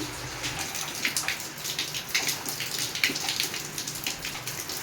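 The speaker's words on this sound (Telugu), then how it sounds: "వర్షం సౌండ్ మీకు రావచ్చు" Steady patter of rain falling, a dense hiss of drops with splashy bursts, continuing without pause.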